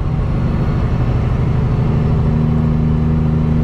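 A custom Peterbilt truck hauling a hazmat tanker accelerates on the highway, its engine giving a steady loud low drone with a persistent hum, heard from inside the cab with no talking.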